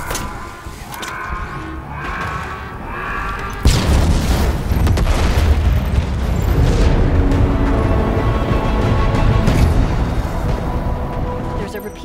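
Explosion during the Halo Infinite shooter campaign, a sudden heavy boom that bursts in after a quieter stretch and rolls on as a loud, sustained rumbling blast with crackling debris.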